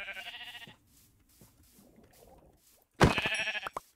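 Sheep bleating in the Minecraft video game, with one wavering bleat at the start and another louder one near the end, separated by quiet, faint shuffling sounds.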